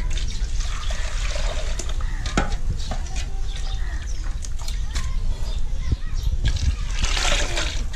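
Hot water pours into a pot of mutton curry cooking on a wood-fired village stove, a loud, continuous splashing, gurgling rush with a voice faintly underneath.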